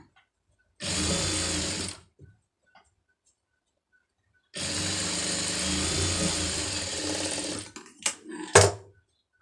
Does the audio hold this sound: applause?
no